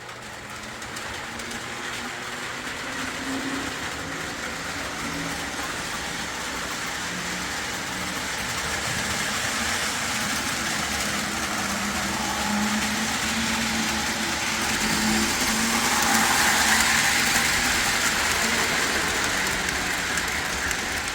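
A continuous low rumble and rolling clatter of a Lionel model train, paired locomotives pulling cars along the track, steady and gradually building slightly louder.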